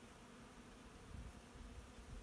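Bees forage on flowering Virginia creeper, their faint, continuous buzzing hum drifting at a distance with a soft rise and fall, no voices present.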